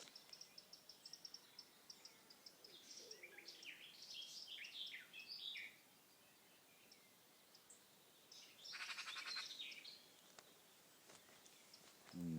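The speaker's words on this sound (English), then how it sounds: "That's a magpie. That's a magpie for sure." Magpie calling from trees, a few harsh chattering bursts standing out over a faint outdoor background with soft footsteps.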